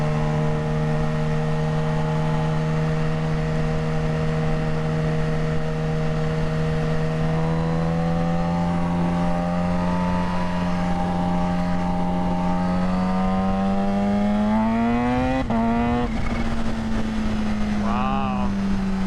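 A supercharged 2023 Kawasaki Ninja H2 motorcycle accelerating, its engine tone rising steadily through the gears as a loud sustained whine and roar, with a quick shift near the end.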